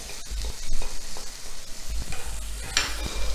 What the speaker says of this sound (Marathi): चांगलं परतून घ्यायचं आहे